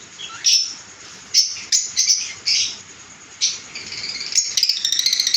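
Caged pet lovebirds, parakeets and conures chirp in short repeated bursts, close and loud, building into denser rapid tweeting toward the end.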